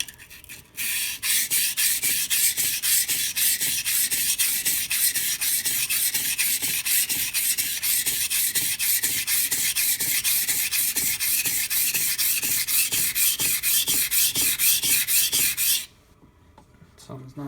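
A knife is sharpened on a Naniwa whetstone with an angle guide, forming a burr: a steady rapid back-and-forth rasping of steel on stone, loud and close, stopping abruptly near the end.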